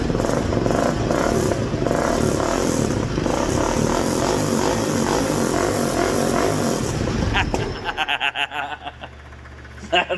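A 440 big block V8 idles on choke and then revs loudly in a steady, rough roar that runs for several seconds, then cuts off into a few sputtering, uneven pulses as it drops back.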